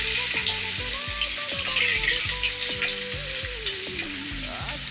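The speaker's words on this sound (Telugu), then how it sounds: "ఆనియన్స్ ఇలా బాగా ఫ్రై చేసుకోవాలి ఆయిల్లో" Onions sizzle in hot oil already seasoned with cumin and mustard seeds, a loud dense frying hiss that stays constant and close, with no voices.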